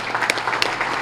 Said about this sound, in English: And give him another round of applause.